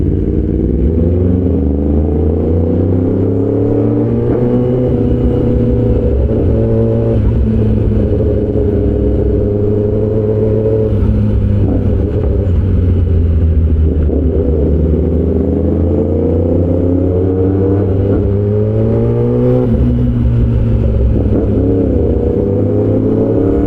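Kawasaki ZX-10R sport motorcycle engine heard up close while riding in traffic, revs repeatedly rising and falling through the gears in a loud, continuous mid-pitched drone with shifting pitch.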